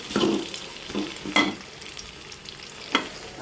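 Shrimp frying in a pan with a soft continuous sizzle, while a utensil stirs and scrapes the pan in a few distinct strokes.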